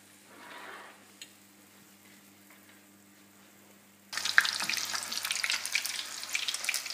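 Cauliflower pieces hit a frying pan after a few quiet seconds, setting off a sudden steady sizzle of hot oil that continues close and loud to the end, with no voices.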